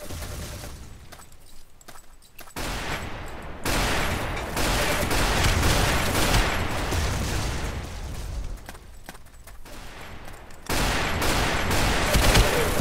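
Rapid gunfire from a Build and Shoot block-style shooter game, dense fusillades with pops and booms nearly continuous, brief quieter gaps, loud and close.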